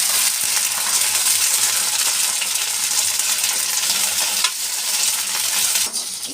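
Okra sizzles and crackles steadily as it is stir-fried in a pan for kare kulambu, a loud continuous frying hiss close up with occasional stirring scrapes and no talking.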